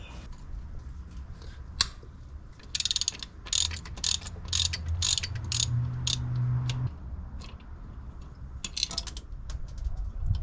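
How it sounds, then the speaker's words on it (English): A hand ratchet clicks in quick bursts while turning a bolt on a turbo Subaru Forester transmission mount, the metallic ratcheting repeating several times between pauses over a low background hum. "we'll need a spanner on the end of that"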